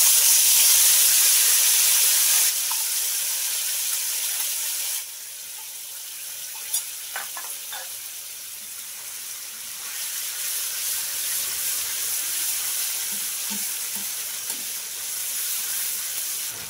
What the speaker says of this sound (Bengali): মশলার পেস্টটা প্রায় 1 মিনিটের মতো খুব সুন্দর করে ভাজা হয়ে গেছে।